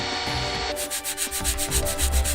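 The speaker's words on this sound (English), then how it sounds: "sanding" Hand sanding on plywood or wood in a home workshop while building a model Stirling engine, a steady rough rubbing scrape with rhythmic strokes, close and fairly loud, no talking.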